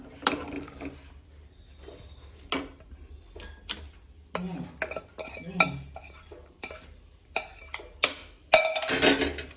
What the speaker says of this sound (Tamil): போட்டு ஒரு கிளறி கொடுங்க.